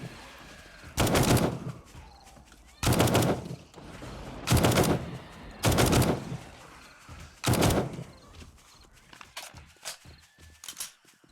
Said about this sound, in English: I'm going to try out the assault rifle.